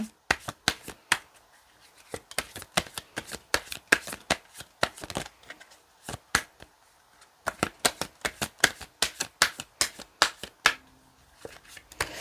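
Tarot cards shuffled by hand in quick bursts of crisp riffling snaps, two long runs separated by a short pause, close and fairly loud, with no talking.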